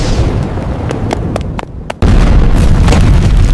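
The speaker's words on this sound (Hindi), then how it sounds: "लेबोरेटरी के अंदर अचानक जोरदार धमाका हुआ।" Cartoon explosion bursting inside a laboratory: a loud, sustained blast with scattered pops and crackles, briefly dipping before a second heavy surge of rumbling boom that fills the rest of the moment, with no voices.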